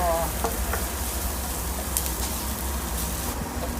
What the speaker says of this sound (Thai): เราก็จะผัดกระเทียมนะคะ ให้หอมเนาะ